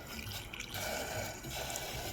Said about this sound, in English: Now add water.